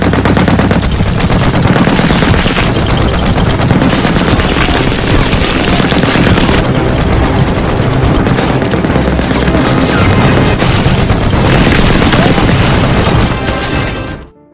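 Sustained, loud machine-gun fire in a World War II battle between Soviet troops and German soldiers and tanks, rattling continuously with booms and crashes mixed in, then cutting off abruptly at the end.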